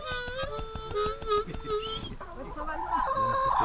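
A hen clucks in a run of short, bright calls close by, mixed with background voices and a melodeon playing, then keeps cackling more loosely as the talk continues.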